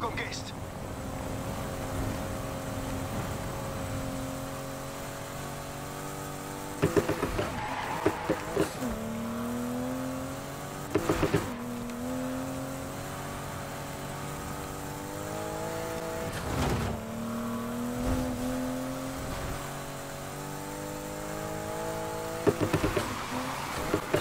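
A car accelerates in Need for Speed Heat, its engine rising in pitch again and again through gear changes, broken by a few brief clattering bursts, while someone talks over much of it.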